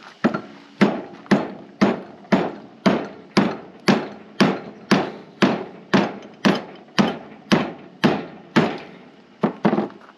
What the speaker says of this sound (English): I might have to get a metal hammer.